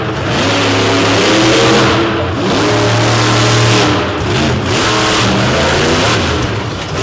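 A monster truck engine roars loud and close on an arena track during a 2024 show in Madison. The driver works the throttle on and off, so the revs rise and fall in repeated surges.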